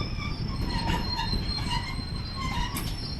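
Maritime Class 66 diesel locomotive hauling a Tesco freight train through Newcastle Central, braking to a stop, with steady rolling rail noise and a series of faint high brake and wheel squeals throughout.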